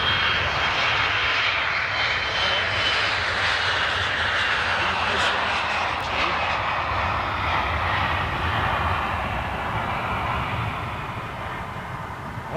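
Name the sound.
jet airliner engines during long takeoff run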